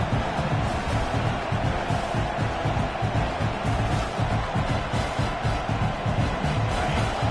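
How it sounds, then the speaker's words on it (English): A stadium crowd roars steadily throughout, a dense, continuous wash of cheering and chatter with no pauses. "Listen to the crowd energy here in the early going."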